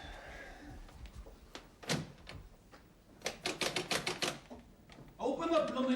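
Fists pound on a locked wooden door in a period drama, first a few scattered heavy knocks and then a rapid, loud burst of blows, followed by someone shouting.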